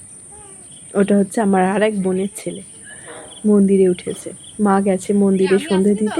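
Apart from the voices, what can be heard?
crickets chirping in a village at dusk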